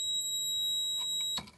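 A fire alarm panel sounds a steady high electronic tone after a pull station is activated, holding continuously before cutting off with a clunk near the end.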